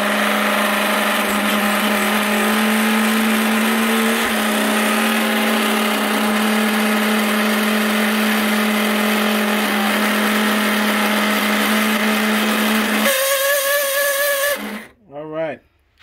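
Steady whine and hum of a grinding wheel sharpening clipper blades, loud and continuous with a faint hiss of contact, before it stops abruptly near the end; a voice talks over it.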